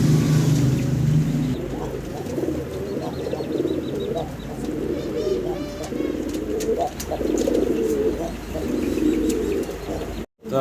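A young red American Helmet pigeon calls repeatedly at close range, its soft coos and chirps rising over a low background rumble before the sound cuts off abruptly at the end.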